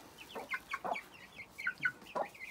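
One-month-old chicks peep and cluck close by in a quick, uneven series of short chirps, several birds calling over one another with no human voices.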